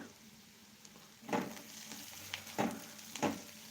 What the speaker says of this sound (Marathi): कांदा व्यवस्थित भाजून झालेला आहे हे बघा नुसतसा कांदा भाजला आहे